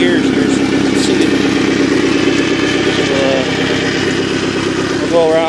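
A 1988 Larson boat's OMC 3.0 120 hp engine runs steadily in gear, a loud close-up mechanical drone with a rattling mid-range throb that holds constant for several seconds.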